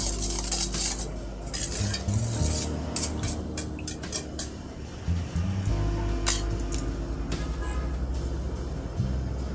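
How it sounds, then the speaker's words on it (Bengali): Bhatura dough is worked by hand into maida (refined flour) in a bowl, giving continuous close scraping and stirring with occasional light clinks of the bowl and utensils. No one talks. "ভালো করে ময়দার সঙ্গে মিশিয়ে নিতে হবে।"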